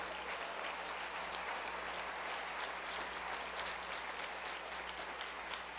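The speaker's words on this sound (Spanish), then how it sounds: "Dele palmas al Señor de la gloria." A church congregation claps steadily during a worship service, dense sustained applause filling the room with no pauses or voices.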